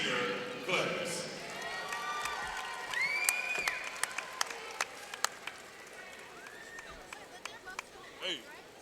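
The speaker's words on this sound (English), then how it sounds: "let's have a nice round of applause for the 2016" Scattered clapping and cheering from a crowd at a Prairie View A&M vs. Alabama State college football game, with sharp individual claps and whistles standing out over a murmur of voices.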